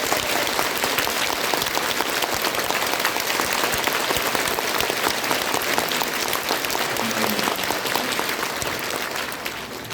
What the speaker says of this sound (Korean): 우리 한기총을 지키신 목사님들에게 우리가 깊은 감사의 박수를 치겠습니다.